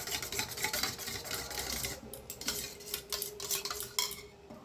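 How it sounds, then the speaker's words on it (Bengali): A utensil whisks sour yogurt in a bowl, a steady, busy scraping and clinking that runs continuously at close range, with some sharper taps near the end. "দইটা আমি ভালো করে ফেটিয়ে নেব।"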